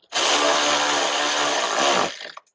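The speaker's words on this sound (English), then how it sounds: "probably don't use an electric screwdriver like I'm doing" An electric screwdriver drives a screw into a car's front aero bumper on a Mini R52 in one loud, close, steady whir lasting about two seconds that then winds down and stops.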